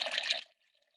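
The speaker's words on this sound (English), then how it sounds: "if you listen carefully, you will hear the bubble of the bleach inside my developer" Bleach pours and bubbles inside a Jobo film developing tank, a brief close liquid gush that cuts off, leaving faint trickling drips.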